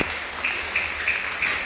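Applause from the audience at a UKG graduation day at an English-medium school, a steady wash of clapping with a few louder swells through the short stretch.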